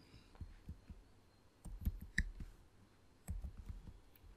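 A computer mouse clicks during software setup, a few faint, sharp taps in small clusters over a quiet background with no talking.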